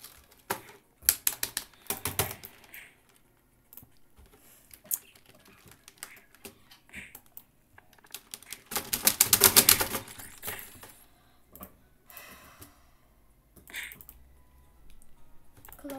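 Sparse computer keyboard typing during an online game session: scattered clicks and short bursts of keystrokes, with a denser flurry of rapid presses in the middle, fairly close but quiet.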